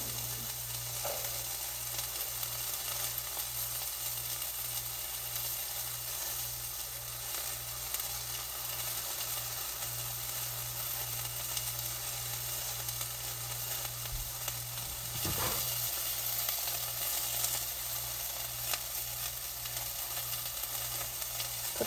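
Onions and garlic, both green and red onion, sizzling steadily in a hot pan for japchae, a loud continuous frying hiss close by, briefly disturbed once by a stir or knock.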